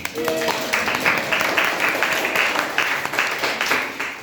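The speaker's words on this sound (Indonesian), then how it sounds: "Kasih aplaus dulu ya" An audience in a classroom claps for a group presentation, steady rapid applause from many hands lasting several seconds, fairly close and even, with a voice speaking briefly at the start.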